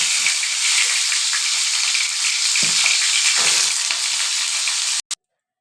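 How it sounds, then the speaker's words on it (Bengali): Cauliflower florets fry in hot oil in a wok, giving a steady, close bright sizzle with light stirring noises. The sizzle continues for about five seconds, then stops abruptly, and one brief sound follows. "ফুলকপিগুলো প্রথমে ভেজে নেব।"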